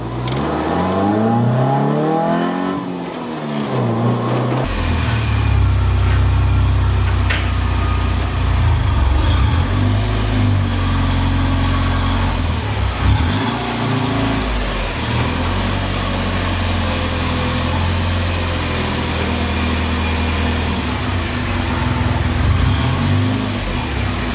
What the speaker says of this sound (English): I'm in love with the way that this car sounds.